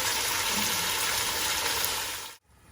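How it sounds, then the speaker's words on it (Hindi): Water poured into a cooking pot of mutton being cooked on high flame, a steady loud gushing pour for over two seconds that stops abruptly, with no talking. "अब मैं इसमें ऐड कर रही हूँ पानी।"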